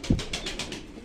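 A female pigeon in a loft gives a brief, close cooing call, a low throaty note followed by a few soft rhythmic pulses.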